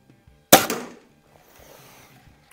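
A Crosman Legacy 1000 air rifle fires once with a sharp, quiet crack and short decay, followed by faint small knocks afterward that may be the pellet striking a board downrange.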